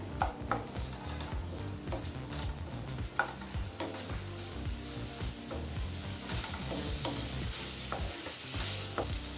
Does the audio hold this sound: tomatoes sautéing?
yes